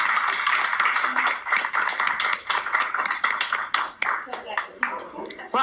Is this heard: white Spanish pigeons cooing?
no